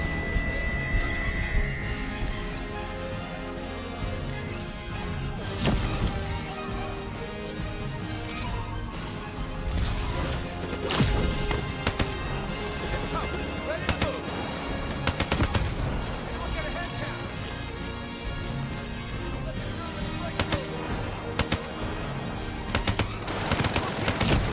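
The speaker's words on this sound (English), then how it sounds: "Who's shooting at me?" Gunfire from the video game Call of Duty: Black Ops 3 crackles in rapid bursts and scattered single shots over a dense battlefield soundtrack, fairly steady and moderately loud throughout.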